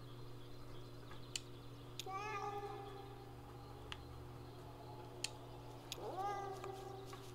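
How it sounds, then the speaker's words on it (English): Two separate cat meows in the video game Kentucky Route Zero, each a drawn-out rising and falling cry, sound over a constant low electrical hum with a few faint clicks. "Sounds like a cat."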